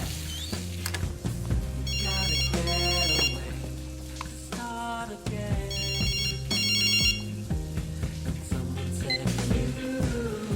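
A telephone rings in repeated electronic bursts, two pairs of bright trilling rings with pauses between, over a busy low background. No one speaks.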